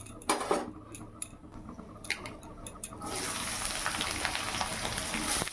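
Diced potato, carrot, capsicum and beans dropped into hot ghee and oil in a kadai with bay leaf and whole garam masala, a few clinks of utensils followed by a sudden loud, steady sizzle.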